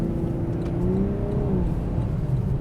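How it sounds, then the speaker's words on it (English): Sports car engine in a Lexus LC500 or Corvette Grand Sport revving through a U-turn, a steady loud mid-pitched drone with a rising and falling tone, close and continuous, no talking over it. "The sound coming from the engine is great, although it's a little bit artificial and piped in."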